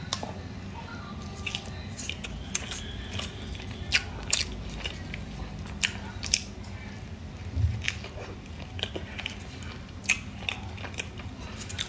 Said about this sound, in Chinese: 先吃一个芋泥的雪媚娘。